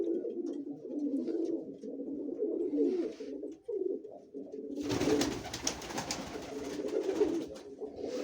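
A crested male pigeon coos close by in low, repeated throaty burbles, with a burst of rustling noise partway through.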